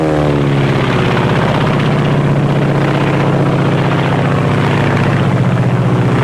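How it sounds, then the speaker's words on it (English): Radial engine of a Japanese Zero fighter plane from World War II droning steadily and loud with a throbbing propeller beat, no talk over it. "This is the Japanese Zero."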